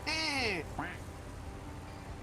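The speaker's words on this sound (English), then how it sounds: "that sounds good. like a duck." A duck-quack vehicle horn in the Roadcraft video game honks once, a bright warbling tone about half a second long, followed by a brief second chirp, with low rumble and a voice underneath.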